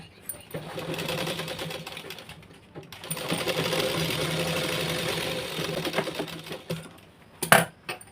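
Sewing machine stitching the lining of a blouse, a steady close motor whir with rapid needle chatter running in long bursts, pausing briefly midway and ending with a couple of sharp knocks.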